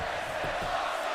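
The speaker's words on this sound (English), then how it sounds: "Crowd chanting, this is awesome." A wrestling crowd in WWE 2K22 chants loudly and continuously, a dense, roaring mass of voices filling the arena with no break.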